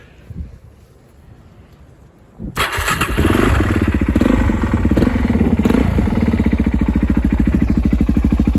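After a brief near-silence with a small click, a Suzuki DRZ400SM dirt bike engine with a Yoshimura exhaust fires up abruptly and settles into a loud, rapid, steady idle right up close.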